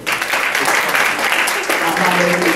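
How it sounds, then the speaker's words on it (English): A round of applause from an audience at an education-series talk honouring a teaching assistant, dense steady clapping filling the whole stretch, with a voice talking over the end. "One more round of applause for Andrew"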